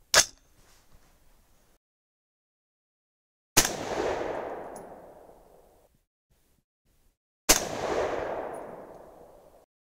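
A 6.5 Creedmoor rifle loaded with 130-grain Berger AR Hybrid OTM Tactical rounds over VihtaVuori N555 powder fires three loud, sharp shots spaced a few seconds apart, each trailing a long echoing decay outdoors.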